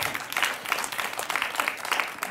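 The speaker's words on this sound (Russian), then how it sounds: "Так, аплодисменты." Studio audience applause on a comedy joke show, a steady dense patter of many hands clapping at moderate level, filling the short stretch without talk.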